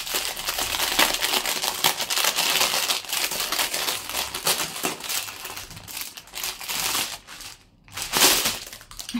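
Plastic wrap on a diamond painting kit package crinkles and crunches steadily for several seconds, close and loud, with a brief quieter gap near the end before more crumpling.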